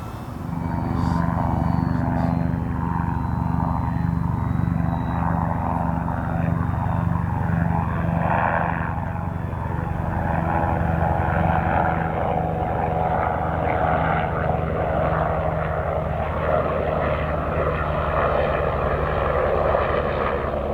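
An E-Flite Beechcraft D18 1.5m twin-propeller model airplane flies overhead with a continuous, fairly loud electric propeller drone. The drone holds steady throughout with a slight rise and fall as it passes.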